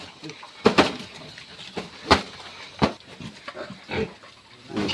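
Pigs on a farm grunt in short, irregular bursts, some sharp and close, with clattering in between and people talking over them.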